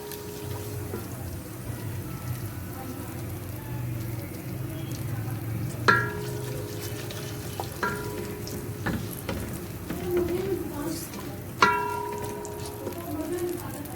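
Jaggery rice with fennel and cardamom being stirred in a pan, a low steady sizzle with a few sharp scrapes and clinks of the spoon against the metal, fairly quiet and close.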